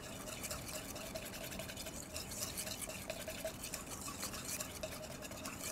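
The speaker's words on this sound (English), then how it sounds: "Scrape the sides with our whisk as we go." A whisk beats crepe batter in a bowl with a steady, soft, wet rhythmic swishing and faint scraping, quiet and continuous throughout.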